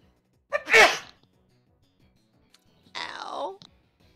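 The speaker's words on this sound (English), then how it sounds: "Gonna sneeze." A person sneezes loudly and close up, a sharp burst followed after a pause by a second, drawn-out sneeze-like exhale; no words are spoken.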